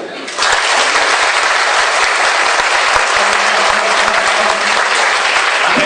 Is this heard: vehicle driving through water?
no